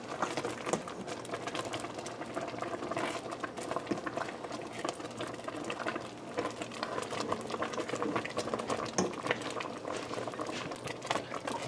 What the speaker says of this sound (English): so it's boiling now.